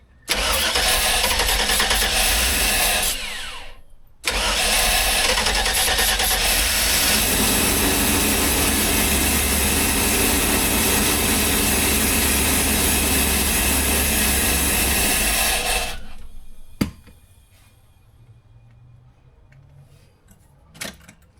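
An old bus engine in a shop cranks and fires, breaks off briefly, then restarts and runs loud and rough for about twelve seconds before shutting down, leaving quiet with a few clunks.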